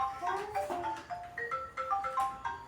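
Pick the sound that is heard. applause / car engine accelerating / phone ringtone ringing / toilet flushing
phone ringtone ringing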